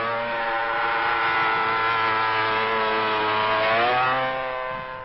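Honda 350 four-stroke racing motorcycle at full throttle on the Charade circuit, a loud, continuous high-revving multi-cylinder wail with steady harmonic tone, rising slightly in pitch before fading as it passes.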